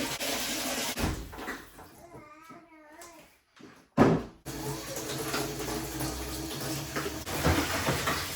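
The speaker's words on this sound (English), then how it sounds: "I literally just rinse the bubbles all off with cold water and then stick them in the steriliser" Cold tap water runs into a kitchen sink while baby bottles are rinsed of washing-up suds. The water gushes steadily and softly, pauses briefly, and a sharp knock of a bottle marks its return.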